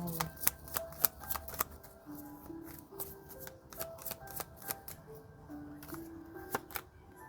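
Tarot cards shuffled and drawn for a Sagittarius love reading: a steady run of crisp riffling flicks and snaps, close and clear, over soft background music.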